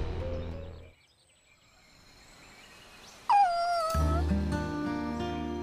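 Dog whimpering in the video game Buddy Mission BOND: a high, wavering whine rises and falls mid-clip against soft game ambience, with a swell of background music before and after.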